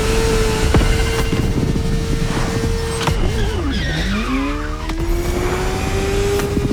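A car in The Crew Motorfest drifts through a sharp turn on a winding mountain road, engine roaring loudly while the tires squeal in long, pitch-bending screeches that swoop down and back up.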